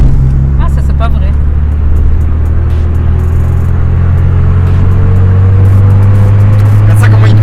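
A turbocharged Japanese import car pulls away at a JDM car event, its deep engine rumble building with a rising, drawn-out note. The engine is loud and close, with voices chatting over it.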